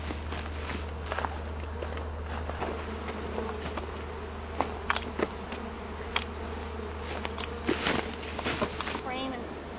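Bees buzzing around a hive set in a hollow log, a steady insect drone with occasional louder passes close by, along with some footsteps and brief voices nearby.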